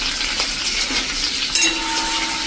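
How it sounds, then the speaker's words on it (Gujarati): Grated ginger and curry leaves frying in hot oil for a capsicum sabji make a loud, continuous crackling sizzle, close up, with a brief sharper spatter partway through and no voices. "અને આને આપણે 1 મિનિટ આ રીતે તેલમાં કૂક કરી લેશું"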